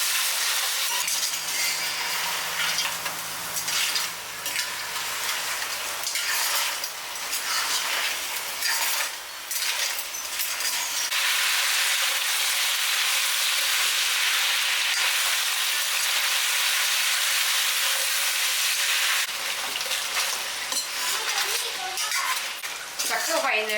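Crab pieces and masala fry in hot oil while being stirred, giving a steady loud sizzle with scraping and light clinks of a utensil against the pan throughout.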